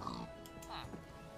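A pig oinks in the video game Minecraft: a couple of short, faint grunts under people talking.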